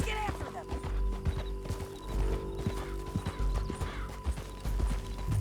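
In Red Dead Redemption 2, a horse's hooves clop in a quick galloping rhythm, with a brief whinny near the start and game sounds and voices layered underneath.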